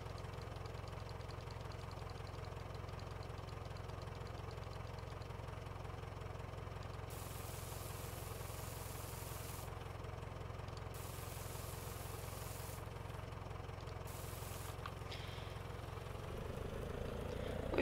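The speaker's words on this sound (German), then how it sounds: "der Trecker hört sich irgendwie sehr merkwürdig an vom Sound her" A tractor engine from the farming game Landwirtschafts-Simulator 19 idles in a steady, continuous mid-pitched drone with a slightly knocking, odd character, holding an even level throughout with no talk.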